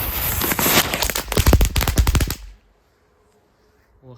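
A rapid string of loud crackling bangs from New Year's fireworks at a country house, like a burst of small firecrackers, that stops abruptly after a couple of seconds, leaving near silence.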